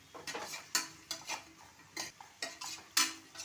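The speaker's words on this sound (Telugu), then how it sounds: "పుదీనా వేసుకోవాలి వేసుకొని బాగా ఫ్రై చేసుకోవాలి" Onions frying with mint in a pressure cooker, a spoon scraping and clinking against the metal pot in repeated strokes over a soft background sizzle, quiet and close.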